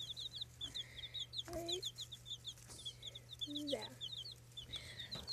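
Hens cluck softly nearby while small birds chirp continuously in the background over a low steady hum; a voice speaks briefly.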